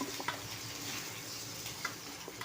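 Chunks of taro root and potato sauté in a pan with a faint, steady sizzle and occasional soft stirring taps, quiet and close, with no voices.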